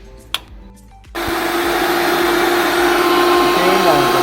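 A small electric fan wired to a homemade solar-powered car switches on and settles into a loud, steady whirring drone after a quiet stretch with a few brief clicks and knocks.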